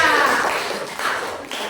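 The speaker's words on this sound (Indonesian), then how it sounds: "Tepuk tangan untuk Dea" Students give a short round of applause for a classmate, a brief patter of hand claps that starts strong and fades within two seconds.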